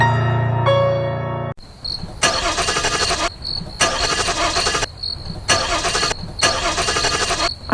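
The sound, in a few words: car engine cranking but failing to start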